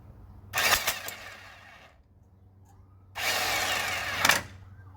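Two bursts from a power tool tightening a fitting on the steering box of a 1951 Chevy, close and fairly loud, each running about a second and a half with a short quiet gap between, no talking.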